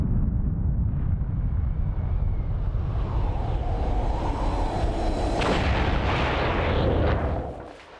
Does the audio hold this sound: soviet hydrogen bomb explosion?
yes